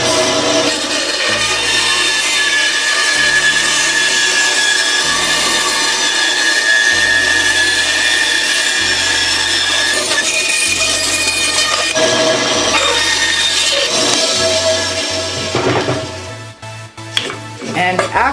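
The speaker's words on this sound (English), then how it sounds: "at the bandsaw I took my 2 pieces of wood that were taped together, turned the bandsaw on" A bandsaw runs steadily and loud while it cuts curves through two pieces of wood taped together for oak and walnut cheese boards. The blade's pitch shifts with each pass, and the cutting stops briefly near the end.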